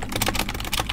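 Rapid clacking of keys on a computer keyboard while entering a Minecraft server address, close and continuous with no speech.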